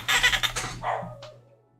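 A dog gives a quick burst of several sharp, close barks, trailing off into a short higher yip before fading to quiet indoors.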